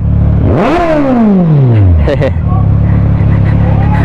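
A Kawasaki Z1000R motorcycle engine at a service shop gives one sharp, loud rev close by, then the pitch sweeps down and settles into a steady idle.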